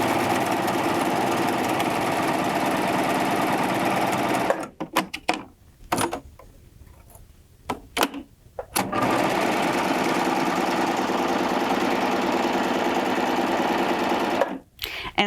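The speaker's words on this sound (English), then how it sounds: "And then I'm going to run out those threads." A Baby Lock Triumph serger runs at full speed to run out its threads, a loud continuous whirring hum that cuts out for a few seconds of short stops and starts before racing steadily again, ending with a brief pause.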